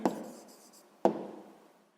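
A pen writes down the answer to a sixth-grade math exercise, two short scratchy strokes about a second apart, each starting sharply and trailing off softly, close by with no talk.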